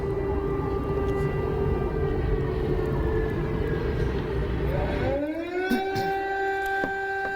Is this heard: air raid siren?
yes